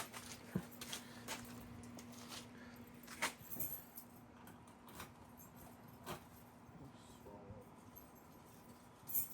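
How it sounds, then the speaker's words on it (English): Three car keys jangle and clink in a hand, a scattering of sharp metallic taps spread across the moment, close but fairly quiet against a low hum. "Having 3 different car keys at once."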